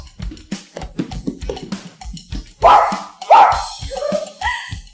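A person imitates a dog, giving two loud barking yelps after a run of soft thumps and scuffling; the rest is quieter voice-like whimpering.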